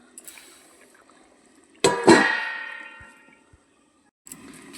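A metal lid is set onto a cooking pot of meat curry with potatoes, landing in one sharp clang. The ringing fades over about a second, with faint kitchen clatter before and after and no talking.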